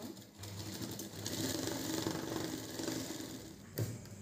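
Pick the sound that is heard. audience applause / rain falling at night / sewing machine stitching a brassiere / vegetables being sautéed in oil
sewing machine stitching a brassiere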